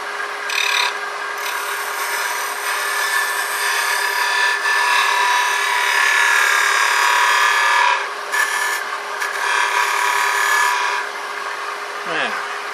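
A rotary burr grinds into wood on a hollow Christmas ornament, making a loud, sustained high-pitched whirring rasp close up, with brief dips as the cut eases and a falling whine near the end.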